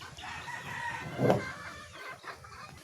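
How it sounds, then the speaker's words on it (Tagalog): Chickens clucking together at close range, with one louder crow-like call rising briefly in the middle over a steady background of farmyard noise. "Dahil ayan na po yung ating mga manok."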